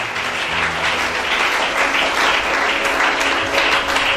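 An audience at a church gathering applauds in a steady, dense wash of clapping that stays loud and even throughout, with no pauses.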